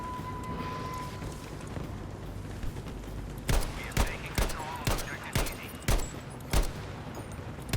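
Gunfire in the video game Battlefield V: a quiet stretch of ambient battlefield noise gives way to a rapid string of sharp, loud shots fired in short bursts.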